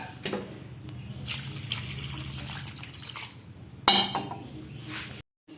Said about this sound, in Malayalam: ഇതിന് നമുക്കൊരു പാത്രത്തിലോട്ടിട്ട് കുറച്ച് വെള്ളവും ഒഴിച്ച് ഉപ്പും ഇട്ട് വേവിച്ചെടുക്കാം